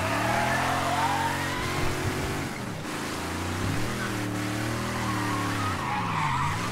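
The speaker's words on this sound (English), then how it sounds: "Do a burnout." Car doing a burnout in the video game Mafia 3: continuous tire screech and skidding over a revving engine whose pitch rises and falls, steady and fairly close, with no talk.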